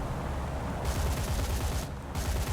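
Three turrets of a Tu-4 bomber fire 23mm cannons in War Thunder, a dense continuous stream of rapid, overlapping bursts, loud and close, with a brief dip in the high end partway through.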